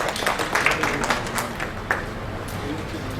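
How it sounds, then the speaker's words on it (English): An audience applauds guests at the inaugural session of a cloud-in-governance conference, a dense wash of clapping with crowd murmur and voices underneath. "A big round of applause for our guests"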